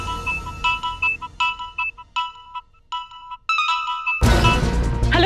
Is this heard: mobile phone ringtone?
yes